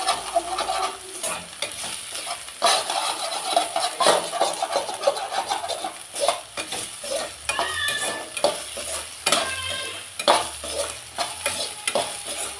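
Sliced okra sautés in a pan for a poriyal, sizzling steadily up close while a spoon stirs and scrapes against the metal in repeated strokes throughout.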